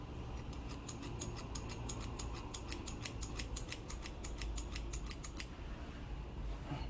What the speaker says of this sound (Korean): 내가 잘려져 있는 머리에 약간 1에서 2cm 정도 띄워서 머리를 잘라주세요